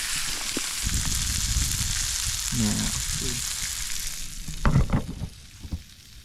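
Crappie fillets sizzle and crackle in a hot frying pan during a lakeside catch-and-cook at Mosquito Lake, a steady, close, loud frying hiss with a few brief voice sounds and clatters over it.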